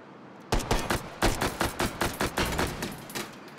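Rapid bursts of gunfire from the VR shooter Hot Dogs, Horseshoes & Hand Grenades, with about a dozen close, loud shots in an uneven rapid rhythm and no talk over them.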